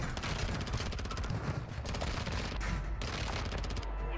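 Rapid automatic fire from a Lachmann 556 rifle in a video game on Ashika Island, dense bursts of shots rattling steadily with short pauses between strings, loud and close, with a heavier boom near the end.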